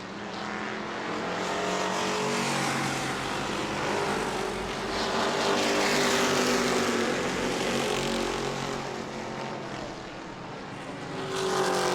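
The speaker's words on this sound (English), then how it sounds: "Blake Clouser will fly around the outside here and put him a lap down" Race cars roaring around an oval track at New Smyrna weekly racing, a continuous loud engine drone that swells and fades as cars pass, with layered motors overlapping and no talk.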